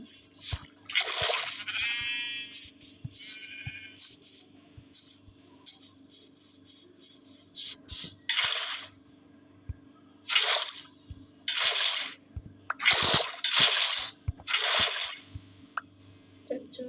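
Water poured from a bucket in Minecraft makes short, bright splashing and swishing bursts that repeat irregularly over a faint steady hum, with brief pauses between them.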